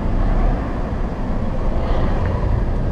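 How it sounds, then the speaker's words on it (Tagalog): Car engine droning steadily from inside the cabin with the air conditioning off and the window down, a continuous low hum filling the clip without talk. "para mas marinig ninyo yung ugong ng ating makina."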